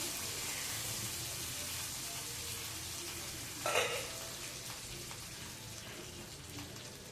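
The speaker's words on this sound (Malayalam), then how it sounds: "കുറച്ച് കറിവേപ്പിലയും കൂടെ ഇട്ടിട്ടുണ്ട് കേട്ടോ ഒരു കടുക് പൊട്ടിച്ചതിൽ" Mustard seeds and curry leaves sizzle in hot oil with a steady, faint hiss. A brief louder crackle comes near the middle and a sharp click at the very end.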